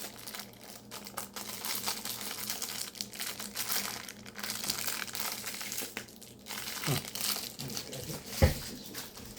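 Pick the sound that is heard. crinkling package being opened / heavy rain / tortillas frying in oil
crinkling package being opened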